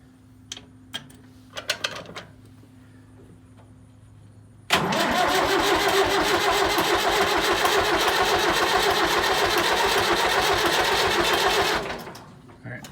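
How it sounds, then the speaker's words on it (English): David Brown 990 tractor engine: a few short clicks and a brief rattle, then a sudden start into a loud, steady running roar that holds for about seven seconds before dropping away. "Check the oil, check the gas, see if she'll crank."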